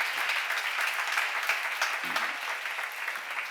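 A church congregation at a seminar applauding together, a dense, steady roar of many hands clapping that holds throughout, with a brief voice murmur partway through.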